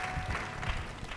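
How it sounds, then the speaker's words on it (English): Audience applause for the panelists and moderator at an engineering lecture event, a brief, moderate wash of clapping from a seated crowd. "Let's give another big round of applause for our panelists and moderator."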